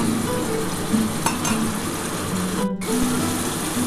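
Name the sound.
spice paste with white mustard paste frying in oil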